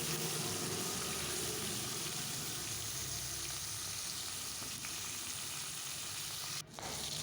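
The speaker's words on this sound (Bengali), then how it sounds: "দেখতে পাচ্ছ আমি মাছটা কিন্তু লাল লাল করে ভেজে নিচ্ছি।" Koi fish frying in mustard oil in a wok makes a continuous, fairly quiet sizzle with light stirring, and a brief dip in the sound near the end.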